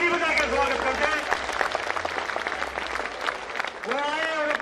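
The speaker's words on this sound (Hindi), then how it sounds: "हमारे बीच में ताली बजा के स्वागत करते हैं" Crowd applause welcoming a farmer leader at a farmers' protest rally in Hisar, loud and sustained, with a voice speaking over it and the clapping swelling again near the end.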